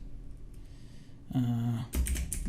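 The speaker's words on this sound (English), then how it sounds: "If that category is not here, I can just type it." Typing on a computer keyboard, a short burst of close key clicks following a quieter stretch with faint background sound.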